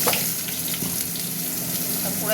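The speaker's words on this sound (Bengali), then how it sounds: "এবার আমি সবজিগুলো দিয়ে দিচ্ছি।" Vegetables frying in hot oil in a pan for a gandal leaf curry, a continuous close hissing sizzle with brief stirring scrapes throughout.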